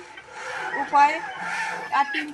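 Broiler chickens cluck inside a poultry farm shed, with a few close, short vocal calls that rise and fall over a quiet background.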